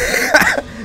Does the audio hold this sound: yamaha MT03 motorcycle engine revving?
no